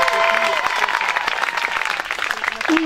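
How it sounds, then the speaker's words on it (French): A crowd applauds steadily at a youth football trophy event, dense clapping filling the space with a faint voice or tone drifting underneath. "on les applaudit aussi"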